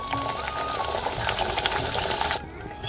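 A Dhakai paratha fries in a pan with a steady, close hiss of sizzling oil and scattered crackles, cutting off abruptly near the end.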